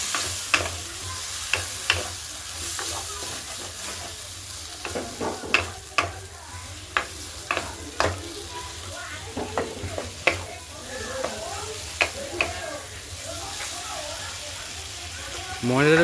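Tilapia fish pieces being stirred and coated with potatoes and spices in a hot pan, with steady frying sizzle and repeated sharp scrapes and knocks of a spatula against the pan.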